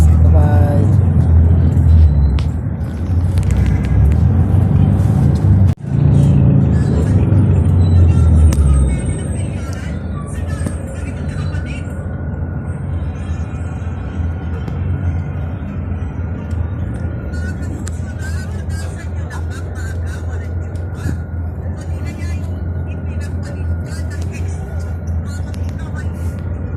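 Heavy, continuous road traffic near City Hall in Manila: a dense low rumble of passing cars and buses, loudest in the first few seconds and then holding steady, with nothing else standing out.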